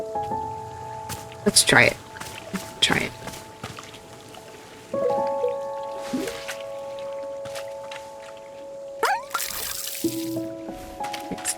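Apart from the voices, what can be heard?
watering plants with a watering can in the video game Wanderstop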